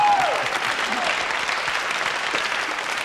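A studio audience claps in steady, dense applause, close and loud throughout, with a brief high tone at the very start.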